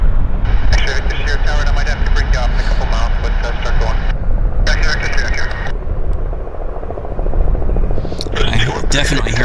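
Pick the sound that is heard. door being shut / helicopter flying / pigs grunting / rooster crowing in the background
helicopter flying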